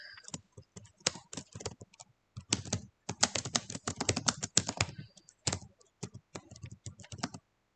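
Rapid, close keystrokes clatter on a computer keyboard as a message is typed, coming in uneven bursts with brief pauses and no talking.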